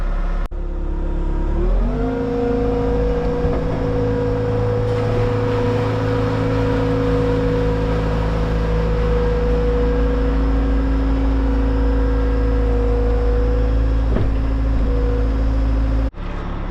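Bobcat T66 skid steer engine revving up to lift a shed, then holding a loud, steady, close drone for about fourteen seconds before cutting off abruptly near the end, with no talk.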